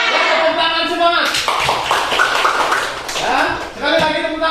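A classroom audience claps at a fiqh lesson, a burst of scattered hands rising mid-clip and fading, with a teacher's voice talking before and after.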